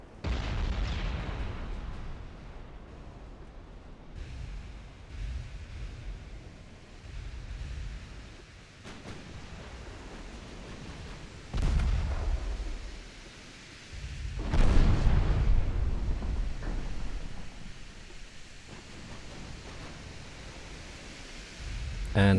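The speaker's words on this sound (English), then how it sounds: "We're hitting some torpedoes." Torpedoes strike British dreadnoughts in the naval game UAD, each hit a deep, muffled explosion swelling out of a low rumbling background, several scattered booms with the heaviest near the middle of the stretch.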